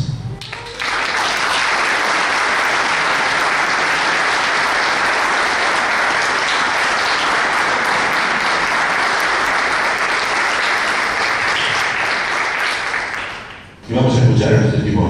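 Sustained, loud applause from an audience at a civic event marking 35 years of democracy in Coronel Dorrego, filling nearly the whole stretch before cutting off abruptly near the end.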